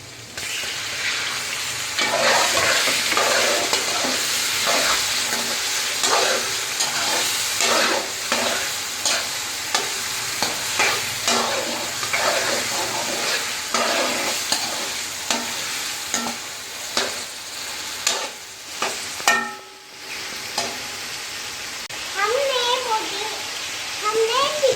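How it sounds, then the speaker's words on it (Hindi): Chicken fries and is stirred in a karahi at a Pakistani street food stall, sizzling steadily. Regular scraping strokes of the stirring utensil repeat throughout, and a voice speaks intermittently over the cooking noise. "अब हम इसमें चिकन डालेंगे। चिकन को हम लाइट ब्राउन कर लेंगे।"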